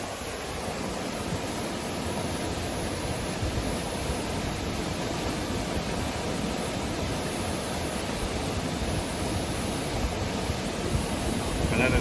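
A waterfall pours into a creek swimming hole in Bangalore Creek Canyon, a loud, steady broadband rush of falling water that holds unchanged throughout, with no talk.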